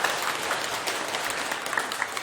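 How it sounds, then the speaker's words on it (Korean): Dense, continuous applause from a lecture audience, steady and close throughout with no voice over it. "박수 한번 치세요."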